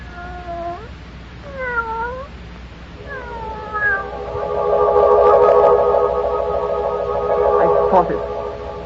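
A cat yowls as a radio drama sound effect in the Inner Sanctum episode The Melody of Death, giving several short rising-and-falling meows before swelling into a long, loud, wavering caterwaul with an echoing effect.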